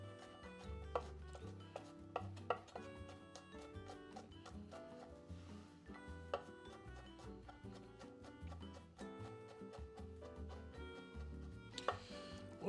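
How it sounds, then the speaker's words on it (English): A cleaver chops garlic on a board in quick, uneven strokes, each hit a sharp close knock, repeated many times over soft background music. "Break down the garlic."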